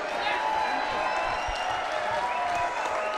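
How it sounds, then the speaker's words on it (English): Boxing arena crowd applauding after a fight in Detroit, a dense, continuous wash of clapping and cheering held at an even level for the whole stretch, with a voice faintly beneath it. "a big round of applause for both of the boxers in this ring"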